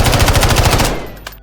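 Rapid automatic gunfire from a gun in Modern Warfare 3 rattles loud and close in a fast even burst for about a second, then cuts off, leaving a brief tail and one faint click.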